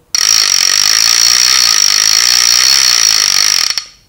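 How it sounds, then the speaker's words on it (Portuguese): A fishing reel's bite alarm blares a loud, steady high-pitched electronic tone continuously for several seconds, then cuts off abruptly. "Essa é um modelo que contém alarme"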